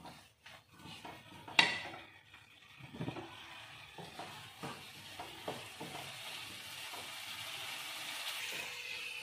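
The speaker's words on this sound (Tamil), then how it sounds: "இதுக்கடுத்து நம்ம இஞ்சி பூண்டு பேஸ்ட் ஊற்றணும். இஞ்சியோட பச்சை வாசனைலாம் போகட்டும், நல்லா வதக்குங்க." Ginger garlic paste frying in a pan over tomato for mint rice, giving a steady hiss with scattered scrapes and clinks of a utensil against the metal, close and moderately loud.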